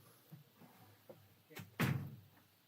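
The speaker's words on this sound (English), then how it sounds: "I'm going to close the door." A door swings shut indoors with a firm thud near the end, preceded by a few faint knocks and shuffling in an otherwise quiet room.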